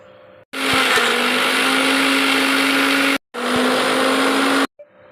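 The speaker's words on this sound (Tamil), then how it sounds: "மிக்சியில் சேர்த்த இந்த மசாலாவை நாம் அரைச்சிட்டு வந்துடலாம்" A kitchen mixer grinder grinds masala for prawn curry, running in two loud, whirring bursts: one of about two and a half seconds, then a brief stop and a shorter spin before it cuts off.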